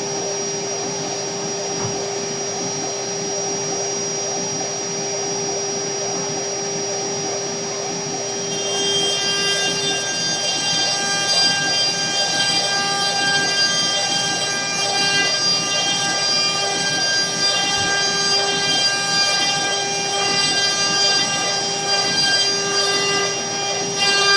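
An MPCNC CNC machine cutting with new upgrades gives a loud, steady whine with sustained tonal hum that grows fuller and louder about a third of the way in, running without talk.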